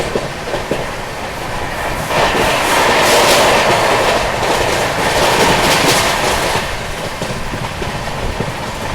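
The Bhagat Ki Kothi Express rolls along the rails in Madhya Pradesh near the Rajasthan border. Loud, steady rumble and rhythmic wheel clatter rise and swell midway, heard from inside a first AC coach with no talk.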